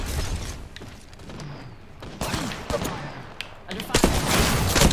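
Bursts of video game gunfire crack and rattle amid mechanical clanks and whooshes of a sci-fi shooter match, loud and close, with several sharp shots toward the end and voices talking over the action.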